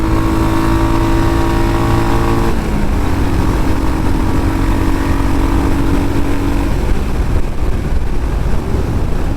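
A Royal Enfield Hunter motorcycle rides in third gear at around 100, its loud steady engine drone heard close with rushing wind noise and a shift in tone as it pulls along, with no talking.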